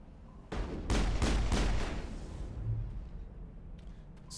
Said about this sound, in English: Switch to my pistol.